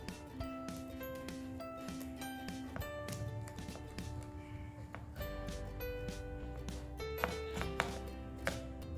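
A knife chops sesame jaggery barfi into pieces, giving sharp, irregular taps against a hard surface, quiet and close, with scattered clicks and a faint background tone.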